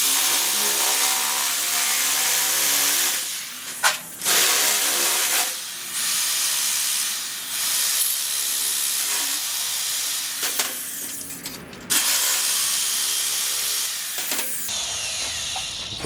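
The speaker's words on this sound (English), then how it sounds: "It's a Makita sheet metal shear and it works wonders." A Makita sheet metal shear cuts 18 gauge sheet metal with a harsh, bright buzzing hiss, running in long bursts broken by short pauses and pitch shifts, close and fairly loud with no talk.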